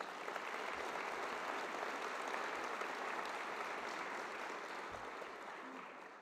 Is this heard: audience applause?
yes